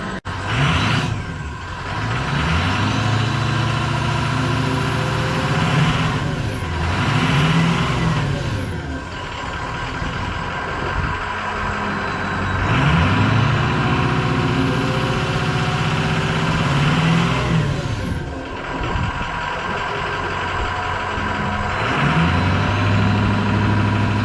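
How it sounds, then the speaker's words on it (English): A 6.0 Powerstroke diesel truck on its stock exhaust, revved several times from idle, each rev swelling and falling back, with a hiss like an air brake between pulls, close and loud with no talk. "let's give it a little rev here at the back, stock"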